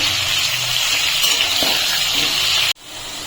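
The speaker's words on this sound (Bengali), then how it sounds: "2 চামচের মতন সরষের তেল গরম বসিয়েছি। এখন আমি ভিতরে আলুটা ছেড়ে দিচ্ছি।" Potato pieces fry in about two spoons of hot mustard oil with turmeric and salt in a home kitchen, making a loud, steady sizzle that cuts off abruptly near the end.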